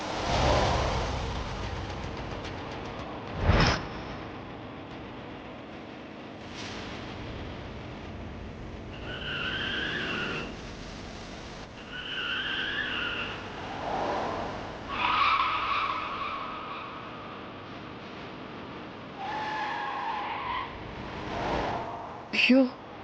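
A speeding car skidding after its brakes fail, tires squealing in several drawn-out bursts over an engine drone, with a sharp thump early on and voices talking in between.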